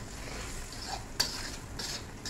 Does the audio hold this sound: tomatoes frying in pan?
yes